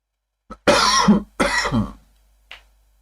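Two harsh, close coughs in quick succession, each followed by a rough rasp, then a faint short throat sound after a pause, with no talking.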